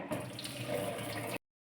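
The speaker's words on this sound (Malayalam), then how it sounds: "നമുക്ക് ഈ വെള്ളം അങ്ങ് ചരിച്ച് കളയാം" Cooking water poured off freshly pressure-cooked matta rice from the cooker, a short gushing splash lasting just over a second before cutting to silence.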